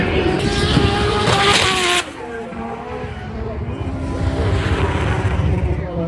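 A Ford F250 pickup truck's loud engine roars and revs on the Castle Combe track, pitch shifting as it accelerates and drifts, with a brief burst of tire screech near the start.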